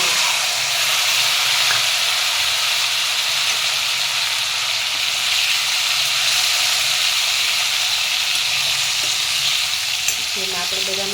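Boiled drumsticks (saragva) drop into a hot oil tempering of fenugreek seeds, asafoetida and curry leaves, giving a loud, steady sizzle and hiss that fills the whole stretch without pause, with a faint clink near the end.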